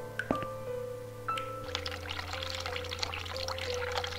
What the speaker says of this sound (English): Let's try this hot water tap and see what happens.